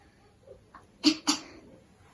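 A patient coughs twice in quick, sharp bursts after a swab touches the throat in a cough reflex test, preceded by soft breaths and clicks.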